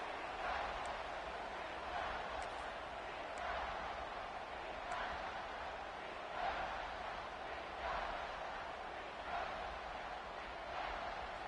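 Steady roar of a stadium crowd in the College Football 26 video game, a broad continuous wash of noise swelling slightly in waves on a big third down, with no clear voice over it.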